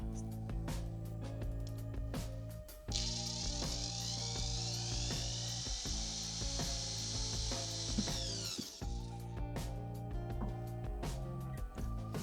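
Procraft cordless drill driver boring into wood with a 50 mm wood bit in a garage, a sustained whine and grinding that runs for several seconds amid a constant low background hum and scattered clicks.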